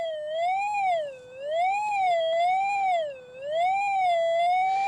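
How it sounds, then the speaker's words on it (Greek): An XP Deus II metal detector sounding on a target, a clear continuous electronic tone that smoothly rises and falls in pitch as the coil sweeps, loud and alone. "Πλέον δεν χρειάζεται κίνηση για να χτυπάει ο ανιχνευτής."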